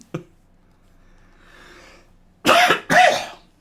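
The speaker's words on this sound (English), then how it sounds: "my cough is coming back to haunt me" Two loud, harsh coughs in close succession, preceded by a brief throat sound and quiet breathing.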